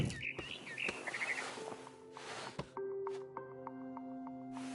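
A barn swallow in the game What Remains of Edith Finch gives quick bursts of bright chirps and twitters over a faint background of tones and clicks, with no talking.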